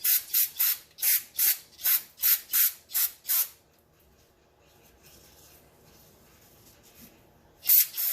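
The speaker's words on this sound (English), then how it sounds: "Try a little bit of brake spray on here" About ten quick hissing bursts of brake cleaner spray in a steady rhythm onto a disassembled sander, then a quiet pause before one last short spray.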